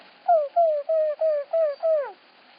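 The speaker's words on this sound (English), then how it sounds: "he's awoken by the very loud pigeons cooing in the square" Loud pigeons in a town square give six evenly spaced calls in quick succession, each a clear falling coo, close and alone against silence.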